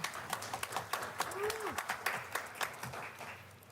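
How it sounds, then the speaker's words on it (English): Scattered clapping from a small group at a public meeting, uneven and moderately loud, with murmuring voices mixed underneath. "let's give them a big round of applause in their absence"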